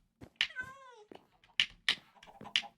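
Cat close by giving a drawn-out wavering meow, followed by several short chirpy calls and a few soft knocks, clear and alone.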